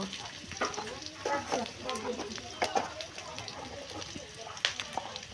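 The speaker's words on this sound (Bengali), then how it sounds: "পেঁয়াজ কুচি দিয়ে এখন ভেজে নিয়ে তেজপাতা দিয়ে দেবো" Chopped onion, bay leaf and cumin frying in hot oil: a steady sizzle with irregular crackles and stirring clatter, close by, while a voice talks over it.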